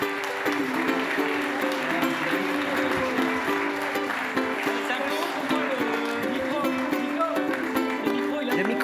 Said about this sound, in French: qui arrivent sous vos applaudissements